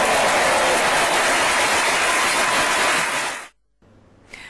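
Loud, dense applause and cheering from relatives and friends at a wedding, filling the space for about three and a half seconds before cutting off abruptly into near silence.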